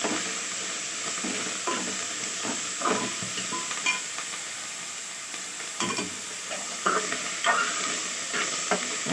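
Coriander leaves frying in a pan for a pickle give a steady sizzle, with the scrape and clatter of a stirring spoon throughout.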